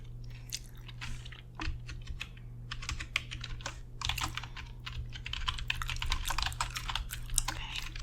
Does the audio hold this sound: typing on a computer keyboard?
yes